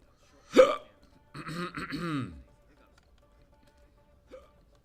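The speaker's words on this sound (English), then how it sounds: "Excuse me, hiccups." A man lets out a sharp, sudden hiccup, then talks briefly, and a second, softer hiccup follows moments later in an otherwise quiet room.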